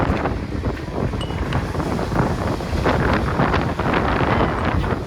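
An offshore wind buffets the microphone on a beach during a catamaran race, with a continuous gusty rumble and ragged bursts of noise and no talk.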